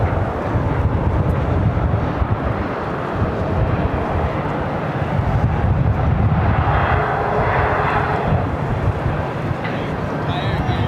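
Heavy jet airliner engines roar steadily at LAX airport in strong wind, a loud continuous rumble with wind buffeting the microphone and voices talking underneath.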